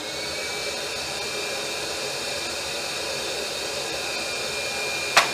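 Ridgid R4520 table saw running steadily with a loud, even whirring hiss throughout, ending in a sharp brief click or knock.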